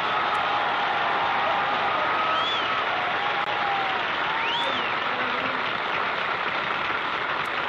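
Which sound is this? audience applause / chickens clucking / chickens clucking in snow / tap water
audience applause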